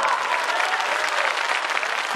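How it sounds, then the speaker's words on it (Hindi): A crowd at a mushaira poetry gathering applauds loudly and steadily, dense clapping filling the whole stretch without pause. "उसे हिलाने के लिए तालियों का शोर और बुलंद होना चाहिए।"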